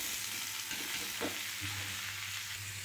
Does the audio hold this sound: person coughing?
no